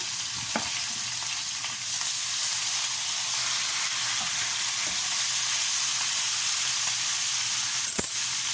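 Steady sizzling of onions frying in a pan, a continuous crackling hiss with a few faint utensil knocks, close and fairly loud, no talking.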